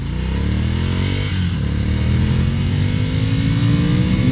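A 2019 Ducati Scrambler motorcycle engine rumbles steadily and loud throughout a slow U-turn, its deep throbbing note rising slightly in pitch toward the end.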